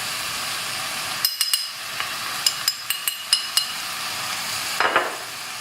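Vegetables and spices (cumin, turmeric, chili flakes) being stirred in a pan for Kerala aviyal, a soft sizzle under a string of sharp metallic clinks from the spoon against the pan, spaced irregularly and close.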